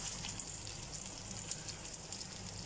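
Bottle gourd shami kebabs shallow-frying in oil in a pan, giving a steady, soft, close sizzle with fine crackle and no talking.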